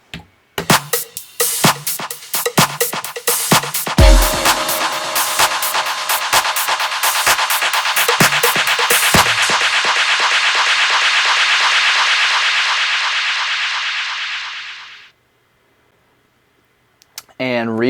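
A Pioneer DDJ-1000 DJ controller's spiral effect turns a punchy drum beat into a dense, swirling sustained wash that holds for several seconds, then fades to silence, with a brief sound returning at the very end.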